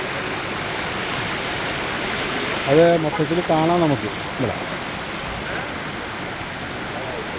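Artificial running water at a children's play area in Salalah makes a steady, close rushing wash throughout, while someone speaks briefly over it.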